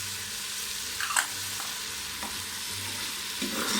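Spice masala with salt and sliced green chilli frying in a pan gives a steady, close sizzle, broken by a few scraping stirs and light knocks from the spoon.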